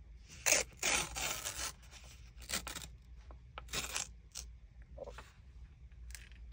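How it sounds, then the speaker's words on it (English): Pages being torn out of an old book, a few sharp ripping bursts near the start followed by softer crinkling and paper handling, close and fairly quiet with no talk. "Okay, first of all, I'm gonna tear it right here."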